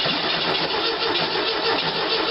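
A small engine with a blown coil cranks on its starter while the carburetor is opened slightly, giving a loud, steady, unbroken grinding drone that lasts the whole stretch with no voices.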